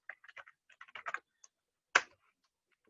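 Computer keyboard keys tapped during a programming lesson, in sparse quick bursts of light clicks with one sharper, louder keystroke partway through, close and with no voice over it.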